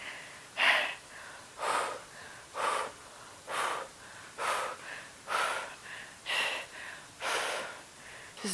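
Heavy rhythmic breathing during a quad pulse workout, about nine strong exhales in steady succession, close and effortful, with no talk over it.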